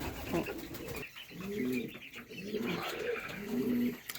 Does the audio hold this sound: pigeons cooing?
yes